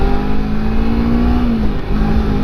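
A small-engine motorcycle hums steadily while being ridden, its engine note holding fairly level and loud close by, with a slight pitch rise and dip and constant wind rush over it.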